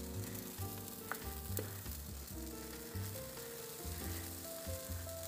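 Cottage cheese pumpkin pancake batter sizzles in a pan in a steady, quiet frying hiss, with a low hum under it and no talking.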